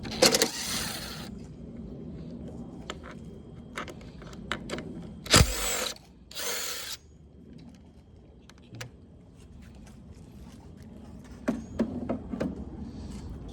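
A wrench removing 10 mm bolts from the carburetor of a Honda HRX 217 lawnmower, with a few short bursts of ratcheting and metallic clinks among quieter handling noise and a low background hum.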